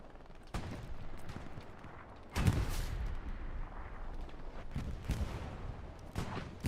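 A machine gun in the World War II shooter Hell Let Loose fires short, controlled bursts, scattered sharp cracks and thumps spaced irregularly over a low rumbling battlefield background.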